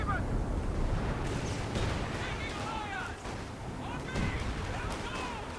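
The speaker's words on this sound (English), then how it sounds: "A grenade comes down on those Volks." A grenade bursts on Volksgrenadier infantry in the real-time strategy game Company of Heroes 2, one booming blast among a dense, rumbling battle soundscape of artillery and gunfire, heavy and continuous, with someone talking over it.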